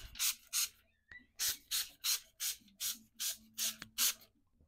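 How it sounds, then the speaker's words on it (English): Short bursts from a spray bottle hiss in a quick, uneven rhythm as water is sprayed onto paper, about ten pumps close by, with brief silences between them. "sometimes I just spray it down with just a little bit of water"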